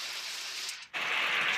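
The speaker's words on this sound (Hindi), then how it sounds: "देखो गाइस कितनी तेज़ बारिश आ गई है" Heavy rain pours steadily near a kitchen as a dense, loud hiss, dipping briefly before surging back even stronger.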